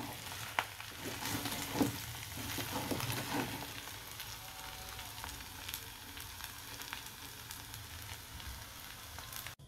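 Steady crackling sizzle of curry-flavoured fried rice (nasi goreng) frying in a hot pan, with a few stirring scrapes early on, continuous and close.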